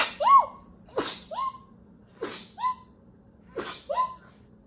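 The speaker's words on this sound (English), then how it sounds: "that was a miracle that it was only 1 sneeze" Four sharp sneezes, spaced roughly a second apart, each with a quick inhaled lead-in and an explosive burst, close and clear in a quiet room, from someone with allergies.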